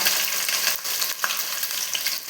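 Chopped ginger, garlic and two or three dried red chillies fry in hot oil with a loud, close, continuous sizzle, interrupted by occasional stirring scrapes, while preparing a lemon pickle.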